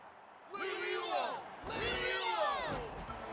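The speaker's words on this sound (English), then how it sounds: "Hear that? The exhilarating cheers of the crowd." Crowd cheers in the video game Genshin Impact: overlapping bellowing and whooping voices swell in two loud waves, close and dense, with rising and falling shouts layered over each other.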